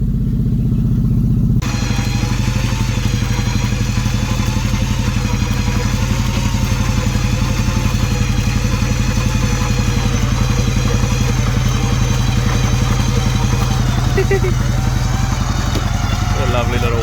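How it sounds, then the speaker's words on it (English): After a brief quieter opening, an electric winch pulling a car onto a trailer starts with a loud, steady motor drone and a low, rattling hum that runs without a break to the end. "What a lovely little winch."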